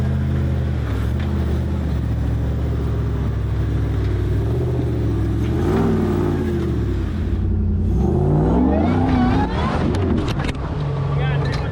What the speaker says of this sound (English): So out of all the Jeeps today, I chose to ride in Gridlock with Nick.